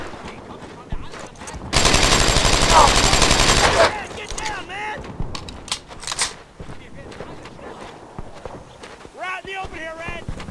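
Suppressing machine gun fire in the World War II shooter Brothers in Arms: Earned in Blood, heard as a loud, sustained burst of rapid shots lasting about two seconds, followed by shouted voices and scattered battle noise.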